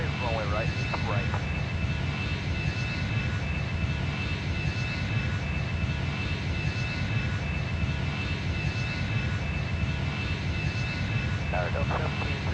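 Jet airliner engines roar steadily at takeoff power in a flight simulator game, a continuous loud broadband rumble with faint radio chatter from air traffic control running underneath.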